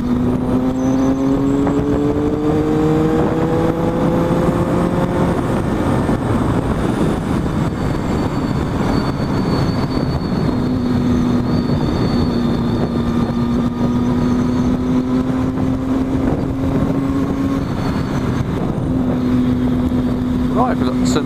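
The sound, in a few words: car accelerating on a country road near Kop Hill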